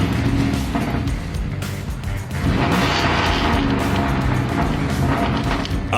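A 2002 Dodge Dakota pickup with a 4.7-liter V8 and five-speed manual transmission, its engine rumbling loudly and close, dipping briefly then swelling again in a steady, throaty drone.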